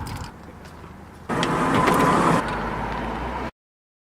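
Car engine and tyre roar on a steep, narrow mountain road with blind turns, rising abruptly loud as the vehicle passes close by, then easing to a steady rumble before cutting off.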